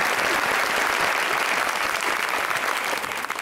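An audience at an Eid special comedy and music stage show applauds with loud, dense, continuous clapping throughout.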